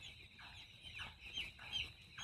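Four-day-old poultry chicks cheep in a continuous, fairly faint chorus, with a steady high chirping and gentle rises in loudness.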